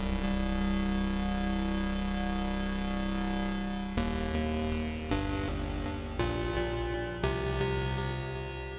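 A sustained digital synth tone from a Korg NTS-1 rings out, then a series of repeated chord stabs follow, each decaying into a washy reverb tail.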